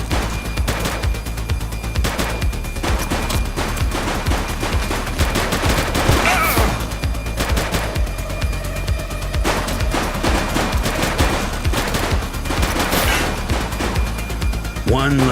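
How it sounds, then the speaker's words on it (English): Rapid bursts of gunfire crackle through a police shootout, volleys of shots and machine-gun-like fusillades repeating steadily over a continuous loud rumble, with shouted voices now and then amid the firing. "Shots fired!"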